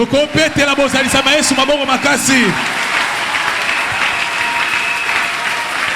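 A church congregation bursts into loud applause and cheering, starting while a voice speaks over rhythmic clapping and then swelling into a sustained, dense roar of hands clapping.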